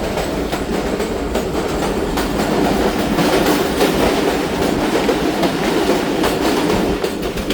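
The Thal Express passenger train roars through a tunnel at night, a loud, continuous rumble of wheels and carriages with faint rhythmic clatter and no break.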